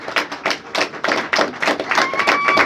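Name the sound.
church congregation clapping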